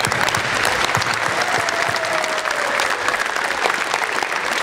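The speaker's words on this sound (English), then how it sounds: "So all the Swiss give to the others a big hand clap." Dense, loud crowd applause at a museum gathering for an international model jet competition, continuous and even throughout with a faint whistle rising briefly in the middle.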